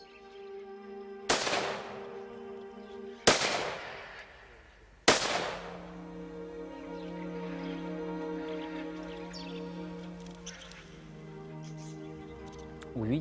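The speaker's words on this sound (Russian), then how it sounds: "почетный караул салютовал в воздух в честь погибших героев" Three loud, sharp rifle volleys from an honor guard firing a salute into the air at a memorial ceremony for fallen soldiers, spaced about two seconds apart, each leaving a ringing tail over a steady background hum.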